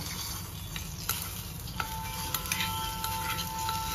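Hot spiced tempering of mustard seeds and turmeric in oil poured onto cold buttermilk, giving a faint, steady sizzle with scattered small ticks and clinks close by, and no voices.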